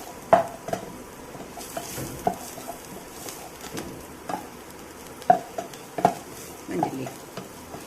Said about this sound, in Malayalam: കുറച്ചും കൂടി ഒന്ന് ഫ്രൈ ആവട്ടെ